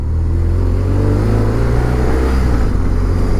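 Motorcycle engine, loud and close, holding a steady mid-pitched drone as the rider brakes, shifts gear and turns, with slight changes in engine note and no talking.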